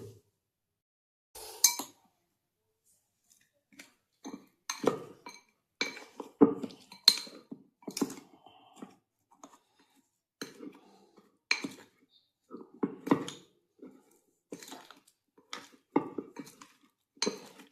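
A spoon clinks and scrapes against a metal dish in irregular bursts, mixing fish with masala and salt for frying, close up with brief pauses.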